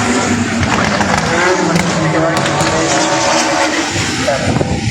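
A rear-wheel-drive four-cylinder turbo race car at Pukekohe Park Raceway screams loudly and close, turbo whine and engine roar sustained under voices talking over it.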